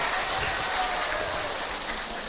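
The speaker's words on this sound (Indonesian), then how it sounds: "tepuk tangan untuk orang Garut" Applause from a women's religious study gathering in Tarogong Kidul, Garut, Indonesia: a steady, dense wash of clapping that carries evenly through the whole moment with no voices over it.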